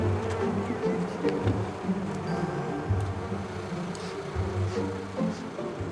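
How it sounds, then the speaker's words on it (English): Agitated honey bees swarm around hives readied for transport as smokers puff, a loud unbroken droning buzz with wavering pitch filling the whole clip, no talk. "the bees are already agitated."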